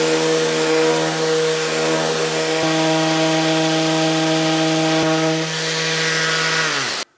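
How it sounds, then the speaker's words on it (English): Power sander working steadily on a wooden tray, a loud continuous whine with strong tonal hum holding for about seven seconds before spinning down at the end, with no talk. "I've just got a bit of cleaning up to do with the sander."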